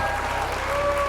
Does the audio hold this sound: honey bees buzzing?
no